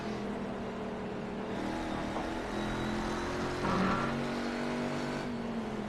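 Corvette race cars on a racetrack with a hairpin turn drone and whine steadily at moderate distance, engine pitch shifting as they accelerate and pass.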